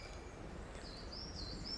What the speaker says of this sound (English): I can hear a little bird singing